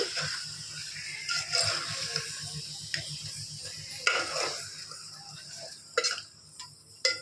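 A spoon scrapes and clinks against a pot while chicken is mixed with spice powders for a curry, giving a steady rhythmic stirring tick with a few sharper knocks, fairly close.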